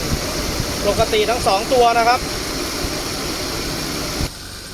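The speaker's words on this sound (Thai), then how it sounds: "พัดลมทำงาน" Air-conditioning cooling fans of a Nissan car, with a freshly serviced compressor and R134a refrigerant, run as a steady whirring hum under a voice that stops near the end.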